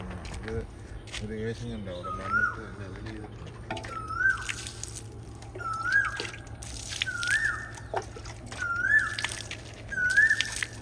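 An Asian koel calls from the top of a teak tree beside a house under construction, giving about seven rising whistled notes at steady intervals. A voice is heard briefly at the start, with faint watery trickling underneath.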